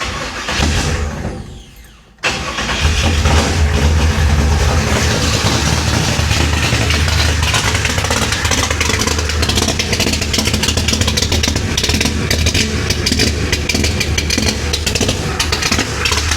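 A 1966 Chevy Impala V8 fitted with a Pypes Violator exhaust fires up after a brief quiet moment and settles into a loud, rough, chopping idle with steady heavy rumble close by.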